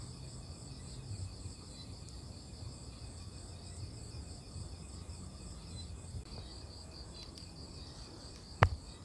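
Crickets chirp in a continuous, shrill, pulsing chorus that holds steady throughout, with a faint low rumble underneath and one sharp click near the end.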